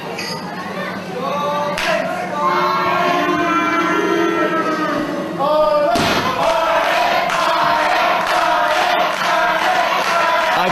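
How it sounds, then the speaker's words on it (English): A wrestling crowd in Trebolgan, Ireland roars and chants for Steve Mulligan at a 2005 match, a loud sustained swell of voices with thuds and a commentator talking over it. "And this crowd coming alive for Steve Mulligan here in Trebolgan."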